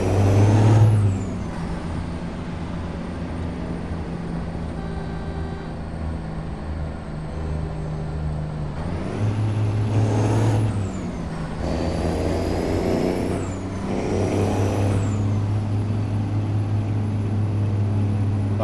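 Heavy truck engine droning steadily in a trucking video game, with sharp hissing air-brake releases recurring several times over a low constant rumble; no talking.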